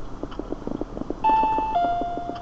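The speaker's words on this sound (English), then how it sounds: "And there's the doorbell." A doorbell rings in the horror video game Paranoiac, a two-note electronic chime sounding clearly over a soft, regular ticking in the background.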